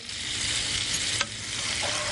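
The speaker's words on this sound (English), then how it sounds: "I can hear my pot sizzling" Steady hiss of food frying in a pot, a constant close sizzle with a brief scrape of stirring partway through.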